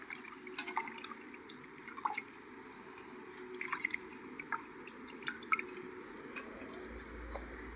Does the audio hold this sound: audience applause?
no